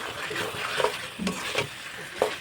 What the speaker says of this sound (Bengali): দেখে রেখে কষিয়ে নেবো মাংসটাকেও